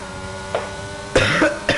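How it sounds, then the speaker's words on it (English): A few short, harsh human coughs, close and fairly loud, with a brief gap between them and faint background sound underneath. "Just a bit of a cough."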